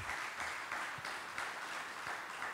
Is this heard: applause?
yes